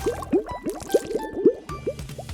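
Soap being added to a bucket of water for washing a car, heard as a close series of soft squishy, bubbly liquid plops and drips in an uneven rhythm, with no talking.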